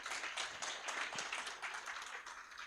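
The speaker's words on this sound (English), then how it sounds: "I think he deserves another round of applause." Audience applause at an accounting-body town hall forum, a steady wash of many hands clapping at moderate distance for the whole stretch, dense and even with no voices on top.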